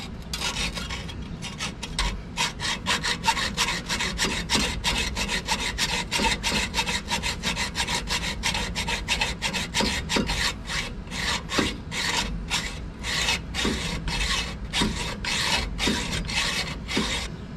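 A hand saw cuts through a steel control arm bolt on a Jeep TJ with steady, close, rhythmic rasping strokes that continue without a break.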